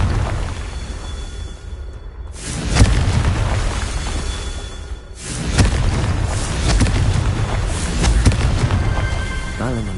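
Confringo blast spell exploding in Hogwarts Legacy, loud booming bursts that hit twice with sharp onsets and crackling tails over busy game sound.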